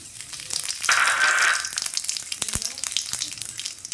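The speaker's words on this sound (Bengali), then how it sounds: "রাঁধুনি, শুকনো লঙ্কা, তেজপাতা ফোড়ন দিলাম" Whole radhuni, dried red chilli and bay leaf are tempered in a little hot oil in a kadai for Bengali shukto, giving a loud close sizzle with sharp crackles and pops throughout.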